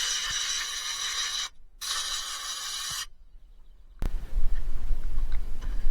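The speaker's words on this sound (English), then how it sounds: "we're going to take our air gun and we're going to just blow out those vents" Two loud bursts of compressed air from an air gun blowing out car interior vents hiss in short succession, then stop, followed by rustling, clattering handling noise.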